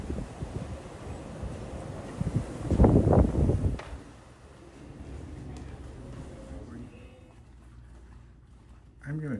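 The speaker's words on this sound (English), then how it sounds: "It's really windy in between the buildings" Strong gusts of wind blow between buildings outdoors in Utah, with a roaring, rumbling rush peaking early and then settling into a steady lower buffeting across the microphone.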